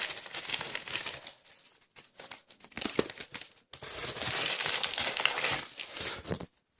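Plastic-wrapped trading card packs crinkle and crackle as they are pulled from a parcel, with close, loud bursts of rustling broken by short pauses.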